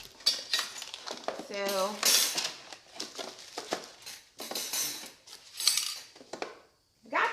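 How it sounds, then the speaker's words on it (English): Metal racks clatter and clink as they are set into an air fryer close by, with irregular scraping and knocking under a woman's speech. "got these racks, and I'm just gonna put this in the air fryer"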